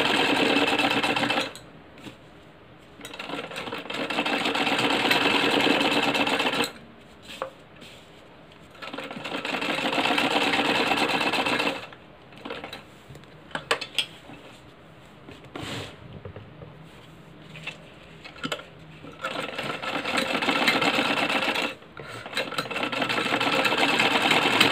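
Sewing machine stitching along the edge of buckram for a kurti, loud rapid mechanical chatter in several long runs separated by short pauses.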